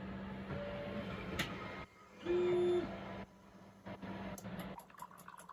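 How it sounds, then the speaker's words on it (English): A commercial automatic coffee machine dispenses milk foam with a steady mechanical whir and a hissing, bubbling flow, a brief louder pump surge in the middle, then clicks and sputters toward the end. "We'll now see the milk and the foam quality coming out of this machine."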